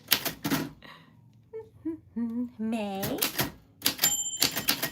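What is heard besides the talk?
typewriter keys and typewriter bell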